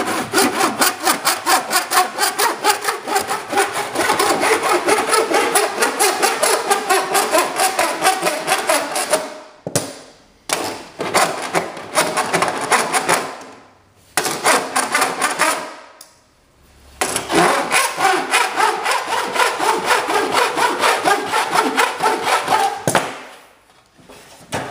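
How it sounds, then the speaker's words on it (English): Rhythmic rolling and squeaking of a metal panel run back and forth through an English wheel with a high crown lower wheel, loud and close, in long continuous passes separated by brief pauses. "we're going to go straight through there with a high crown wheel."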